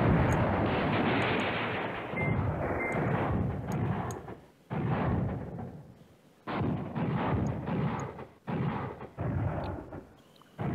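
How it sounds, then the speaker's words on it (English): Airstrike explosions in the Command Ops 2 war game at Manhay Crossroads: a series of heavy booming blasts with rumbling decays, loud and separated by short pauses, with no talking. "Oh, we have an airstrike."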